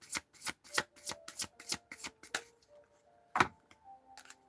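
Tarot cards riffled and shuffled in a rapid series of crisp, close bursts, about nine in quick rhythm, then a sharper snap and a few softer taps, with no talking.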